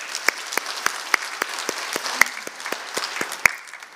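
Hands clap in a steady, even rhythm at a Friday church worship service, several people clapping together in time at a moderate pace, fairly close.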